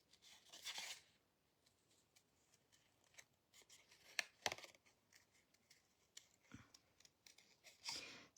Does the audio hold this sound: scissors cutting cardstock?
yes